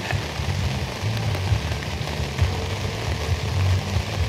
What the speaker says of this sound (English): it's begun to rain again